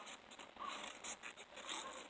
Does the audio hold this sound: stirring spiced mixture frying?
no